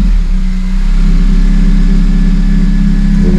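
A Honda Civic FN2 Type R engine runs steadily at idle with an aftermarket exhaust manifold, a loud low rumble with a constant harmonic hum throughout, no talking.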